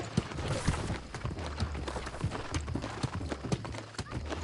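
Horse hooves clip-clop in the online game New World, a steady rhythmic trot of close, moderate thuds running under dense game ambience and combat noise.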